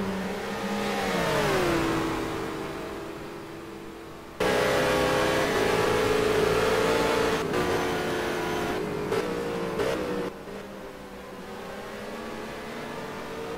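Emerson Silva's Nissan GT3 race car at Bathurst, its engine revving and shifting through gears with rising and falling pitch, loud and close throughout, with a sharp jump in intensity midway.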